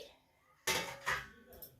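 Brass and bronze plates clink as they are picked up and set down, two or three bright metallic knocks close by, with faint talking around them.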